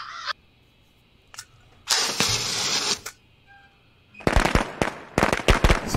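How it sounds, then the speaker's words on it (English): Fireworks go off in the video game Sense in two loud bursts of crackling, popping blasts, the second a rapid string of sharp cracks, with quiet gaps and a few faint pops between them. "Let's use these fireworks for the crows."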